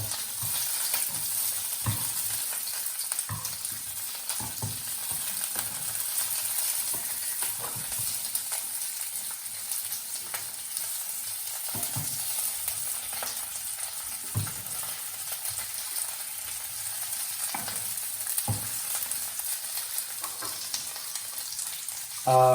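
Food fries in a pan and is stirred now and then, giving a steady close sizzle over a long stretch with scattered scraping and tapping strokes, and no talking.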